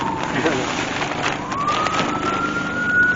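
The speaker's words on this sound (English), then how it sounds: "That's an ambulance." A wailing ambulance siren rises and sweeps through its tone under steady traffic rumble, loud and nearby throughout.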